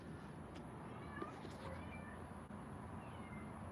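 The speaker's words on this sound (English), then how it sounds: "the kittens ain't coming to feed off of her, so that she's meowing" A mother cat meows for her kittens, a couple of short, faint mews rising over a steady background hum, with no other clear sounds.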